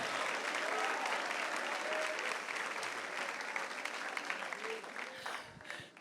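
Church congregation applauding together during a worship service, a loud continuous wash of clapping that carries on steadily and tails off slightly at the end.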